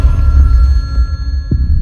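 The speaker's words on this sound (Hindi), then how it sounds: "Attend the phone sir. सुना नहीं आपने?" A telephone rings with a steady electronic tone over a low background rumble, and a brief knock or thud comes near the end. No one speaks.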